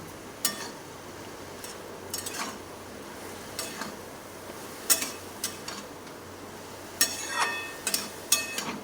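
Spices including Kashmiri chili powder and sugar stirred in a pan, with irregular metallic scrapes and clinks of a spoon against the pan over a quiet background.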